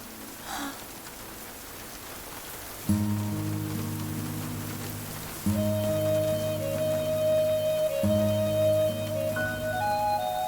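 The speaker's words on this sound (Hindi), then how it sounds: "बारिश खत्म होने से पहले" Steady rain patters in a film scene, a soft continuous hiss under tonal music with sustained notes that swell in and grow louder midway. No voices are heard.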